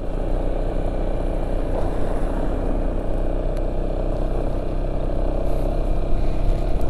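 Steady, loud engine drone of an automatic scooter ridden across the Bromo sand sea, with constant rumbling and wind noise, at a fairly even speed.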